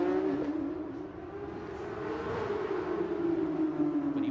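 A Porsche Supercup race car powers out of the final corner at Mexico City in 2017, its engine a steady, droning whine at moderate distance, rising slightly toward the end.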